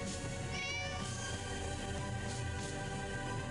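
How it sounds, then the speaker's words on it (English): A cat meows in the Divine Divinity video game, a drawn-out, wavering cry heard over steady game ambience and background music. "Is that the cat from the beginning?"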